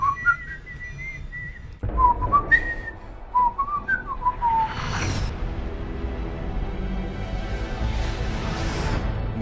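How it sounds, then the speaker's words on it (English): A person whistles short, wavering melodic phrases close by. The tune breaks off after a few seconds into rushing, whooshing noise and a continuous background hum. "Yeah, I keep whistling."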